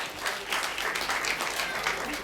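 Audience applause at an Utkal Divas celebration at Kalamandir, Kolkata: steady, dense clapping from a crowd filling the whole stretch, with a faint voice or murmur underneath.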